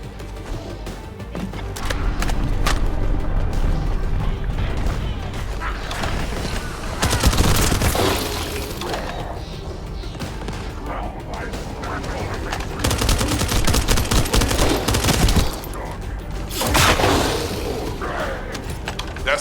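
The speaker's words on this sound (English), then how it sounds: "That stopped the gunfire." Gunfire in The First Descendant video game: bursts of automatic weapon fire and sharp shots crackle in repeated volleys, with mechanical clanks and booms between them, loud and close, over a low ambient game backdrop.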